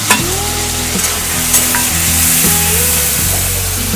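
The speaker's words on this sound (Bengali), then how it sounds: "এবার আমি জলে ভিজানো মশলাগুলো টমেটোর মধ্যে দিয়ে দেব।" Water-soaked spices hit frying tomatoes in a pan for a steady, loud sizzle, with stirring scrapes and soft clinks running through it and no voices.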